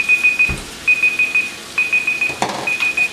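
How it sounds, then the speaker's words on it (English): A darkroom timer beeps during film developing, giving a series of short, steady, fairly high electronic tones in a regular on-off pattern with a brief knock in between. "And I will cut off this timer."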